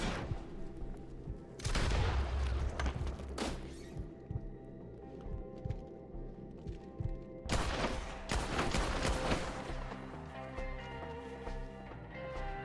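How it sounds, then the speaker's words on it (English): Gunfire in Red Dead Redemption 2 comes as dense, loud bursts of overlapping shots and impacts in two main clusters, with scattered single cracks between them and a game score running underneath. "Shoot the ones up there first!"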